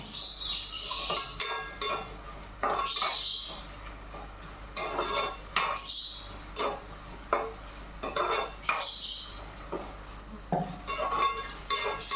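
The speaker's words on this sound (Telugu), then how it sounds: "పెద్ద ఆనియన్ ఒకటి, ఒక 5-6 పచ్చిమిరపకాయలు మనం మంచిగా ఆయిల్లో వేసి ఫ్రై చేసుకోవాలి" A large onion and five or six green chillies fry in oil for a tomato and dried prawn curry, a steady hiss under repeated scraping and clattering of a spatula against the pan, close and moderately loud.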